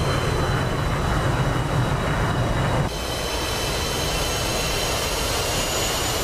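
A continuous loud roar of fast jets racing through a city street circuit in a flight combat game, dense and steady, dropping slightly in level midway as the engine tone shifts, with no talk.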